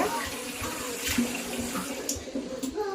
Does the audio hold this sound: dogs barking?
no